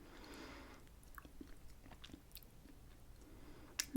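Firm cream-filled biscuit being chewed close up, soft crunchy mastication with small bites through the middle and a sharper crunch right at the end, no talking.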